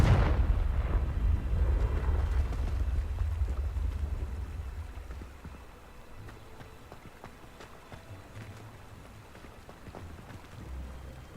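A Confringo blast spell from Hogwarts Legacy opens with a loud rumbling explosion that decays over several seconds into faint crackling debris and low ambience.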